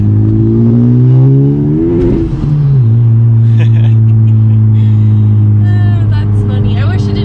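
A tuned Honda Type R engine revs hard and loud, its pitch climbing then dipping sharply before holding a sustained high drone, with brief voices over the end.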